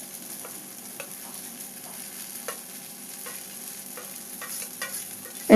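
Marinated brinjal pieces are sautéed in a pan, producing a quiet, steady sizzle with soft intermittent stirring scrapes and a sharper clatter at the very end.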